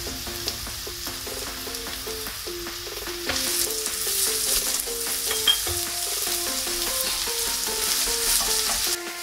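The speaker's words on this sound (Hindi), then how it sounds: "अब हम इसमें जो अनियन थी वो अनियन डाल करके फ्राई करेंगे" Chopped onions fry in a pan for paneer manchurian, a steady sizzle that swells louder partway through with occasional stirring clinks, with music playing throughout.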